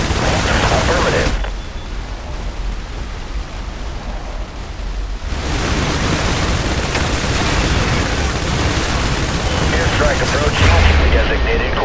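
Gunfire and airstrike blasts from the video game IS Defense, set on a harbor level: dense, noisy bursts of shooting and explosions fill the mix, dipping briefly, then returning loud and continuous.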